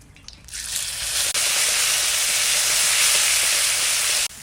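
Bay leaf and cumin paste hit hot oil in a home kitchen with a sudden loud hiss that becomes a steady, dense sizzle, broken by one brief dip and cut off near the end.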